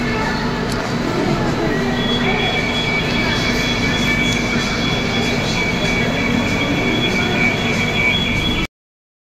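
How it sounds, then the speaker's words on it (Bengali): A metro train rolls into a station with a continuous rumbling drone, steady tonal whine and faint wheel squeal, loud and close throughout before cutting off abruptly. "চুপচাপ মেট্রোটা চলে এলো, চুপচাপ করে ঢুকে যেতে হবে মেট্রোর মধ্যে।"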